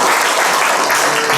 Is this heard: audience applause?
yes